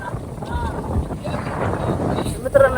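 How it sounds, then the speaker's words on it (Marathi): A strong gust buffets the microphone outdoors, a low rumbling roar of wind that swells and holds with a few brief knocks, loud and close, with a voice speaking over it. "हे बघा एवढं वारं सुटलंय"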